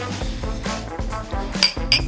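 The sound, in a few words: glasses clinking in a toast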